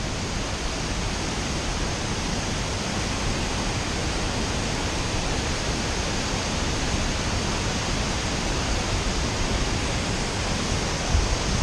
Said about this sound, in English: Yep, definitely a waterfall.